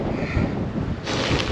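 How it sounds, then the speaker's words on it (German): Strong wind roaring against the microphone on a bike ride along the Rhine into Bingen, a loud, rumbling buffeting that gusts harder near the end. "ein heftiger Wind"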